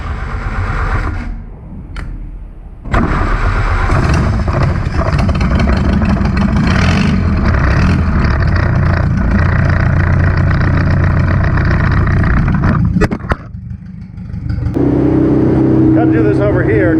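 A Willys CJ-2A Jeep engine without an exhaust starts up and runs loud and steady close by, dipping briefly before revving back up, with a voice talking over it.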